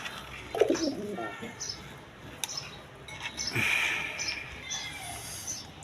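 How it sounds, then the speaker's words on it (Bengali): Red-coloured pigeons coo softly nearby at a pigeon farm, a brief low murmuring call with a few faint chirps over quiet background noise. "এখানে এক পেয়ার কবুতর আছে দেখেন"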